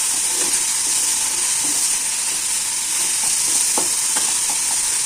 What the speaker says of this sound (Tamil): நல்லா வதங்கிட்டு பாருங்கள்